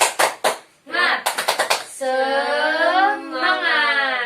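Children give quick bursts of hand clapping in a rhythmic pattern in a classroom, broken up by chanted group voices calling out between and after the claps.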